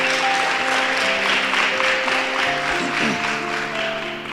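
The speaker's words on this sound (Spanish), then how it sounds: "Le damos un aplauso al Señor bien fuerte," Congregation applause during a church service, steady, dense clapping with sustained musical tones underneath, keyboard-like chords holding throughout.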